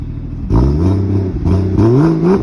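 A Ford FG Falcon with a turbo conversion revs hard twice up close, each throttle blip rising in pitch over a loud idle.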